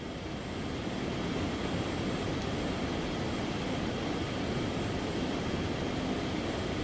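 Phenom 300 jet engines climbing in the X-Plane flight simulator: a steady, even roar held at constant loudness throughout, with no breaks or voices.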